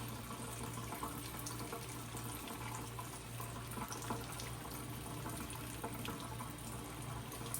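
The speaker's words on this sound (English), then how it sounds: "So I'm going to run this faucet on cold." Steady cold water from a kitchen faucet pours continuously into a sink, a constant close splashing hiss with no talking.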